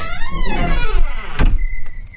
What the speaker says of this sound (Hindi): अचानक दरवाजा धीरे धीरे चरमराते हुए खुलता है।